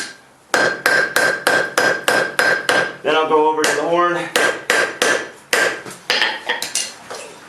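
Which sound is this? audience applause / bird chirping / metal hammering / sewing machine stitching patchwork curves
metal hammering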